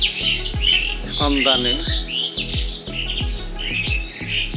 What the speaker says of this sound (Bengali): শালিক, চড়ুই, কাক একসাথে পাশাপাশি বসে কিচিরমিচির শব্দ করে